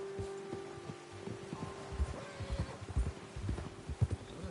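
Horse hooves clip-clop in the open-world western game Red Dead Redemption 2, a steady walking rhythm of soft thuds that grows a little louder toward the end, with faint rustling behind and no voices.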